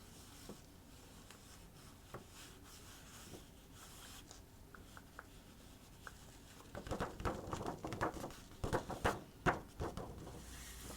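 A pencil tracing art on thin, flimsy paper, giving faint, soft scratching and light strokes that become more distinct and rhythmic in the second half, close and quiet.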